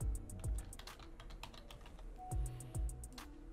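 Light typing on a computer keyboard, a quiet run of irregular key clicks with a few heavier thumps mixed in, close and alone for a few seconds.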